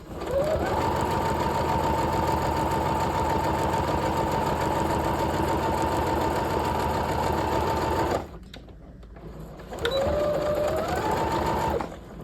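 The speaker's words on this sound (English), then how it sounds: "Making sure to backstitch." Sewing machine running fast and steady while stitching a jacket pocket seam, continuous loud whir for about eight seconds, a short pause, then another brief burst as it backstitches.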